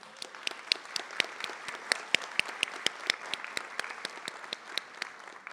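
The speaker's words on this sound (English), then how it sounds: "Let's give them a hand of applause." Audience applause for students at a high school Seal of Biliteracy recognition ceremony, moderately distant with individual claps clearly spaced and distinct, steady throughout.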